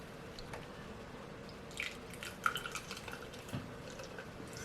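Carlsberg Elephant beer poured from a 16-ounce can, an aggressive pour that gives a soft steady fizz and hiss with scattered drips and splashes, close and quiet, with no talking.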